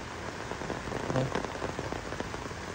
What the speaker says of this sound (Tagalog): So ayan, nakita nyo, sobrang ulan dito.